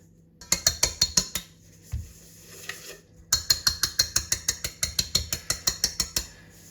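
A whisk knocks rhythmically against the bowl while mixing a crumbly four-ingredient biscuit batter. Two bursts of sharp, evenly spaced taps sound up close, separated by a short pause with a few softer knocks.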